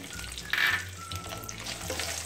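Cashews and peanuts fry in a pan with a steady crackling sizzle, a brief louder burst early on, then a continuous even hiss with light stirring.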